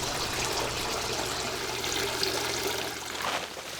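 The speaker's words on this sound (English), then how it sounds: "Found a little waterfall in the back of the Jinja" A small waterfall behind a Jinja shrine in a Japanese town, a continuous mid-distance rush and splash of falling water holding steady throughout and easing slightly near the end.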